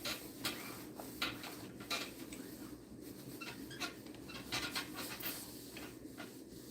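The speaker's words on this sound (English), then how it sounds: "I'm up watching Gator washing his dogs in that kitchen sink" Dogs pant steadily while being washed in a kitchen sink, with soft clinks and knocks of dishes and splashing around them, quiet and close.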